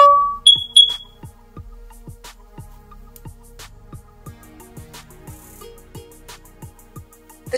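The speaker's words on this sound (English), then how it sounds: "This is only a test. Testing smoke. Testing carbon monoxide." A Google Nest Protect smoke and carbon monoxide alarm during a self-test gives a few sharp, high beeps at the start, followed by quieter repeated electronic tones.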